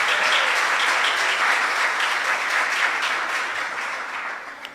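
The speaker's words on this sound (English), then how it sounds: "let's give Louise a big round of applause" Sustained audience applause for a quiz moderator at a schools quiz event, a thick even roar of many hands clapping that gradually tapers off toward the end.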